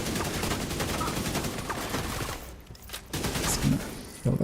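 Sustained automatic gunfire in The Division 2, a dense rattling fusillade for about two seconds, a brief lull, then more sharp shots and a close crack near the end.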